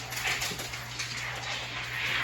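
A dog whimpers and whines in short, faint bursts over a low steady hum, with no one speaking.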